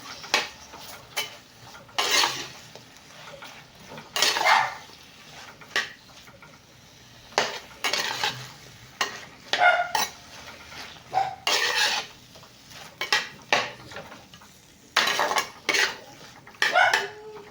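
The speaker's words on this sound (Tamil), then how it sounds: "ஒரு ஒரு நிமிஷம் போட்டு நல்லா வதக்கிக்கோங்க" Okra sautéed and stirred in a pan for a tomato-okra tamarind curry, heard as repeated metal clanks and scrapes of a spoon against the pan in uneven bursts, with faint background noise and no talking.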